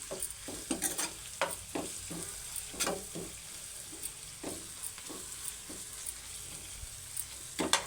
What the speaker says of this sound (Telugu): అల్లం వెల్లుల్లి పేస్ట్ పచ్చి వాసన పోయిందాక అయితే ఇలా వేయించుకోవాలి